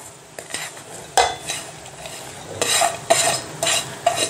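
A spoon stirs rava idli batter mixed with finely chopped vegetables in a bowl, giving several close scraping strokes and light clinks in short bursts with pauses between them.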